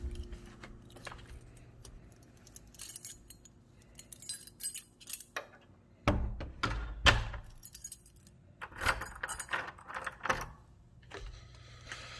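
Keys jangle as they are picked up, bursts of bright metallic clinking and rattling in irregular clusters, close and crisp, with quieter handling rustles between.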